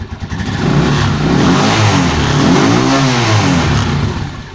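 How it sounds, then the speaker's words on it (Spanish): A new motorcycle engine runs loud and close, rising from a few rough idle pulses into a sustained rev with a buzzing, vibrating drone before easing off, no voices heard. "La moto es nueva y sin embargo, por muy ajustadas que estén las piezas, ya oyeron ustedes la vibración."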